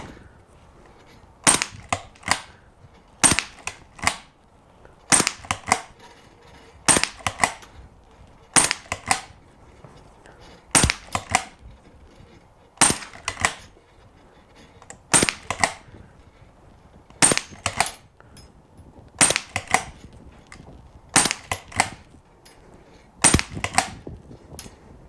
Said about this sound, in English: that's one of the ways that you can use this target and practice for speed shooting